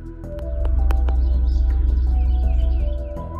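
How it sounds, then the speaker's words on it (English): A deep, steady low hum fills the background while a few brief, thin bird chirps break through on top of it. "Beyond the birds chirping, you can hear the same hum in the background."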